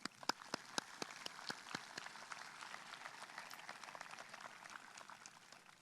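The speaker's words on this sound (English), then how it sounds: "Let's give these people a round of applause" Applause at a high school graduation ceremony, a burst of sharp individual claps at the start settling into steady, moderately distant clapping from the crowd that continues throughout.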